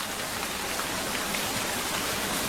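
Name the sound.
rain falling in the forest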